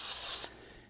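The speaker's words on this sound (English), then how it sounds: "we're going to take a little of that same spray" Cooking spray from an aerosol can is sprayed onto cling wrap during homemade bread making, a close steady hiss lasting about half a second before stopping abruptly, with a faint rustle after.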